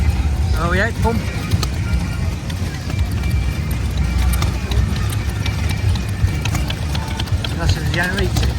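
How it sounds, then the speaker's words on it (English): A single-cylinder diesel generator runs at a steam and traction engine rally at Astle Park Farm, giving a steady, continuous low rumble over general outdoor crowd noise, with people talking nearby. "That's the generator."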